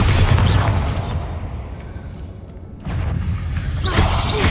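Bombarda blasting spells cast in the video game Hogwarts Legacy: loud booming bursts with whooshing tails, one opening blast fading after a second, then a second boom near the three-second mark swelling again at the end.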